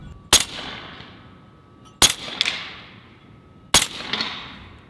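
Three sharp, loud shots from a Western Rattler .45 Long Strike big-bore airgun, spaced about two seconds apart, each a crisp crack with a brief ringing tail and a smaller echo or impact after it.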